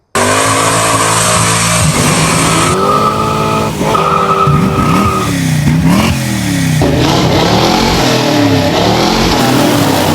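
A 1969 Camaro at a street rod event, engine loud and close throughout, with sustained revving that rises and falls in pitch over about ten seconds, no talking.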